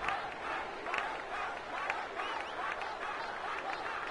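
A video game crowd in Final Fantasy X cheers and applauds steadily, a dense, even roar of many voices and clapping with faint talking mixed in underneath.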